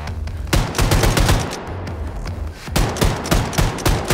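Repeated sharp shotgun blasts from the video game Wolfenstein II: The New Colossus at irregular intervals, loud and close, with a brief lull in the middle and a quicker burst toward the end.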